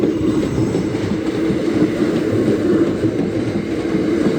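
A Class 375 train passes a level crossing at Deal, producing a steady, loud rumble of wheels on rails with faint clattering throughout, close by and with no voices.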